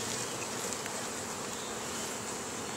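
A swarm of honey bees buzzes steadily inside a hive lid during swarm control, a dense, continuous close hum with no pauses.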